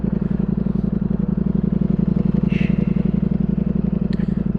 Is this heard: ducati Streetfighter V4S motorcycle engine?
yes